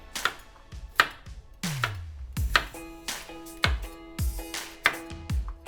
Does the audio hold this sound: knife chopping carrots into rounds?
yes